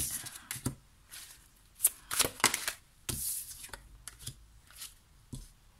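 Tarot cards shuffled and drawn in a series of quick riffling bursts and soft slaps, close and fairly quiet, with short pauses between them and no talk.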